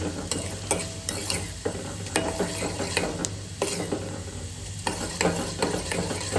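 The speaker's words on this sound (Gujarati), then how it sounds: "આમાં ખાલી જીરાનો વઘાર એડ કરવાનો મિત્રો આ તેલ થઈ ગયું છે બે ચમચી જેવું જીરું" About two spoons of cumin crackle and sizzle steadily in hot oil, with scattered spattering pops and a few clinks of a utensil nearby.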